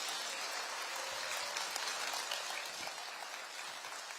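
Audience applause for Prime Minister Kim Yun-seok at a government policy briefing in Jeonbuk, a steady, moderately distant wash of clapping holding evenly throughout with no voices over it.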